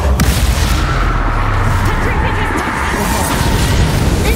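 An Incendio fire spell is cast in Hogwarts Legacy, a loud, roaring blast of fiery noise that fills the whole stretch with dense rumble and crackle, heavy and continuous rather than a single bang.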